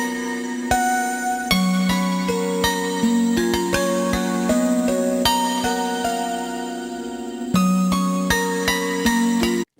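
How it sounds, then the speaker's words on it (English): Synth harp notes from an Eternal Engine MARS four-voice polyphonic tube synth, run through an Enzo X set up as an ambient bit crusher, ring out in steady bright plucked chords with shimmering, crunchy overtones, loud and alone. "Now I'm going to give my harp similar snowy vibes by turning Enzo X into an ambient bit crusher"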